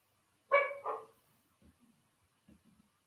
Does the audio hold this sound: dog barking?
yes